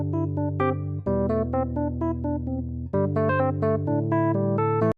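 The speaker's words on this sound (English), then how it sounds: "electric piano riff that we're gonna use in this video." A short electric piano riff: chords and melodic notes played in a steady rhythm, warm and close, continuing for several seconds without any voices before stopping abruptly.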